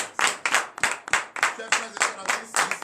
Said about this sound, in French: je vous demande humblement d'applaudir votre Dieu